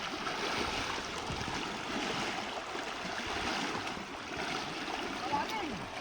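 A strong river current rushes steadily, a broad continuous watery roar close by, with people talking over it.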